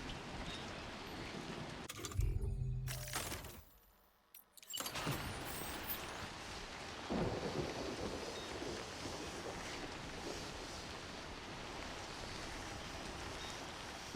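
Timefall rain in Death Stranding 2 falls as a steady, moderately loud hiss with broad wind-like noise, broken by a brief louder burst and a short near-silent gap early on, then continuing evenly to the end.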